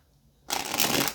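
Tarot cards shuffled up close: a half-second of near silence, then a dense, crisp riffling burst that runs to the end, with no voices.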